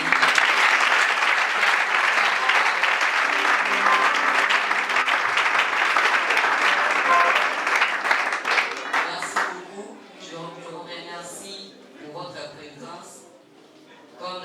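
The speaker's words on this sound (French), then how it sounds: "Est-ce que nous pouvons acclamer pour les Seigneur?" A congregation at a French-speaking church worship service, celebrated with children, applauds for the Lord in loud, sustained clapping that fills the room for about nine seconds, then thins into scattered claps and murmuring voices.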